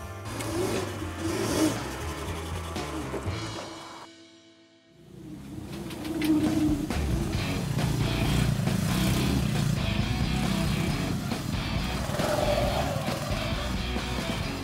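An electric motorbike with a 4 kW motor and standard reducer accelerates on asphalt. A steady motor whine mixes with rushing wind, dips briefly to near quiet, then rises again and holds loud and close.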